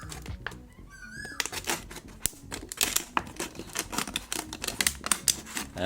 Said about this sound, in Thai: ส่วนอีกขวดก็ตัดเหมือนกันครับท่านผู้ชม เรา ลองทำสองขวดนะครับอันนี้